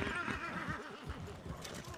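A horse in the RedM game gives a short neigh, its wavering whinny rising and falling over a second or so, with game ambience and voices talking around it.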